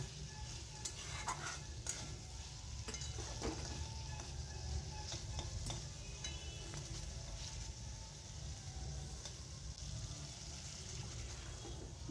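Spices and masala frying gently in oil for a Bengali paneer curry, a faint continuous sizzle with occasional stirring clinks and scrapes, heard quietly without talk.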